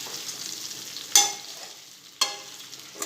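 Cornmeal muthiya being turned in a pan with a little oil give a low sizzle, broken by two sharp scraping bursts about a second apart as they are flipped.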